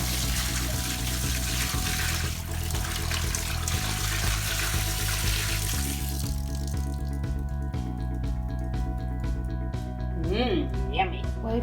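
A floor is mopped with a bucket of hot water and a squirt of washing-up liquid. Water runs and sloshes steadily nearby, and a voice can be heard alongside it.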